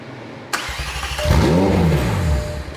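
A damaged McLaren 720S engine cranks and catches, then revs up and settles in a rising and falling sweep, loud and close, after a short sharp click.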